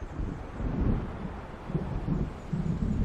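Low rumbling thunder from an approaching storm in Alan Wake Remastered, rolling in several deep swells over windy noise, heavy and muffled with no voices.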